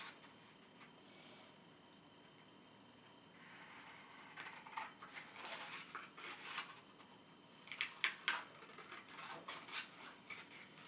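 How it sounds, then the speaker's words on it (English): Paper being cut into a pennant shape with scissors, heard as faint, close snipping and rustling that grows busier in the second half, with a few sharper snips near the end. "you're just going to go ahead and cut out the shape."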